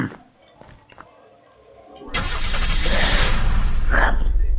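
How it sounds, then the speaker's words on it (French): A race car engine in the video game Unturned starts from quiet clicks, then bursts into a loud, sustained roar of revving that continues to the end. "Une voiture de course, mon gars!"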